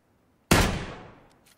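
A single sharp gunshot in the video game Battlegrounds cracks out after silence, loud and close, with a short echoing tail that fades over about a second.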